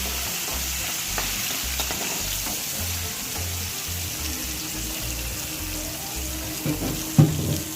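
Chopped capsicum sizzles in a pan of oil for paneer tomato curry, a steady close frying hiss under rhythmic scraping strokes of a spatula, with a louder clatter near the end.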